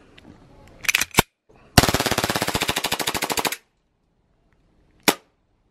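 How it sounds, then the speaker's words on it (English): A Glock 18C BB gun fires full auto with 0.20 gram BBs: a couple of quick shots, then a rapid, loud burst of about two seconds, followed by a pause and a single final crack. "The full auto kind of sounded a little sloppy."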